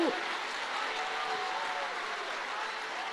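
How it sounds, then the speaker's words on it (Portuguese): Applause from a church congregation in Brazil, a dense, even wash of clapping that continues at a steady level, moderately loud, with a brief voice at the start. "Se é para aplaudir, aplaude com vontade"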